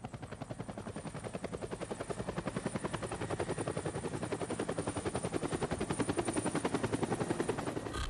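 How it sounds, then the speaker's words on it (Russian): Military helicopter used for water, ammunition supply and evacuation, its rotor thumping in a steady, fast pulse that stays loud and close throughout, with no voices. "То есть это реально вертолет, это надежда."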